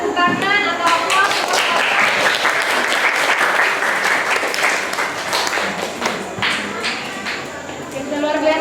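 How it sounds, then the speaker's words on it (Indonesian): Classroom applause after a student presentation on Eubacteria: a burst of many hands clapping, loud and near at first, with a few sharper individual claps standing out as it gradually thins toward the end. "Oke, beri tepuk tangan atau applause."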